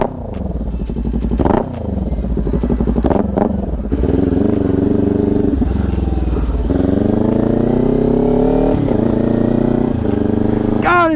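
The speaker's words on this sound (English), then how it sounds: "I'll give it a few revs." Motorcycle fitted with an LV-10 exhaust idles with a loud, raspy throb, then gets several blips of the throttle that make the engine note swell and fall, heard close and continuously.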